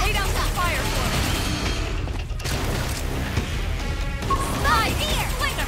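Gunfire and clashing combat effects from Xenoblade Chronicles X, loud bursts and crashes layered with game music and character voices, dense and continuous over the whole stretch.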